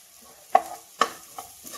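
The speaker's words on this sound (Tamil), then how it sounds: "நல்லா வதக்கலாம்" Vegetables sautéing in a pan with salt, stirred in a slow rhythm: four distinct scraping strokes against the pan over a soft background sizzle, close and clear, no voices.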